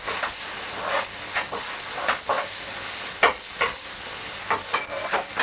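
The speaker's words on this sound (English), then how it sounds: "Give that a stir through." Peppers, soy sauce and ketchup sizzle in a pan while a utensil stirs them. Repeated scraping strokes land in an irregular rhythm over a constant close hiss of frying.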